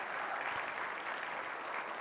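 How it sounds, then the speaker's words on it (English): Steady audience applause for Pam Oliver, master of ceremonies at the LA84 Play Equity Summit, a dense even patter of many hands clapping at close range without pause for the full two seconds. "let's give Pam Oliver a round of applause before we forget"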